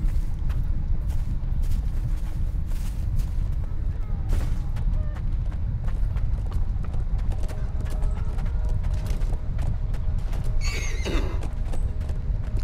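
Horse hooves clip-clop loudly and continuously in Chivalry 2 mounted combat, with whinnies and sharp battle clatter in a dense medieval fight, some voices faintly in the mix.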